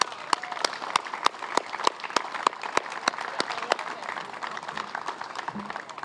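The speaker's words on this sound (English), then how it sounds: "let's give another round of applause for Katie, please." Round of applause from the crowd at a Special Olympics New Hampshire Law Enforcement Torch Run celebration at the Statehouse, steady clapping with a few sharp, close individual claps standing out before fading away.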